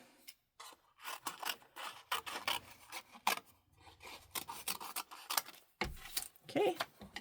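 A paper trimmer slices through a strip of cardstock, heard as short rasping cuts and scrapes in quick bursts with brief pauses, close up and with no talk over it.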